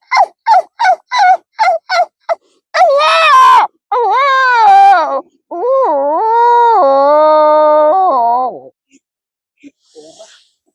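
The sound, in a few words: human voice imitating a jackal howling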